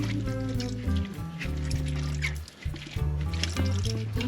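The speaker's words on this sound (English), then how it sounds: "I'm gonna use that pump to pump that fluid into that hole" Hand pump forcing transmission fluid into a BMW X5 E70 transmission during a fluid service, giving a continuous wet, gurgling, squelching sound with rhythmic pump strokes, close and fairly loud.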